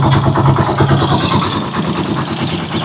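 A motorcycle engine catches on a single press of the starter and settles into a loud, close, steady idle with a rapid even chug.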